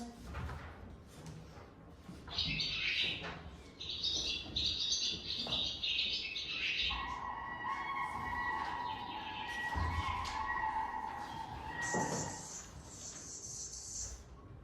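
Recorded birdsong played back in a classroom: several birds chirp, whistle and trill in overlapping phrases, including a sustained tonal whistle and high bright calls, at moderate level over faint room noise, with no talking.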